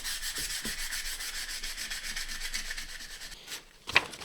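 Sandpaper is rubbed over a guitar body stripped of lacquer, working up through the grits, in fast, even back-and-forth strokes that hiss close by, ending with a couple of sharper scrapes.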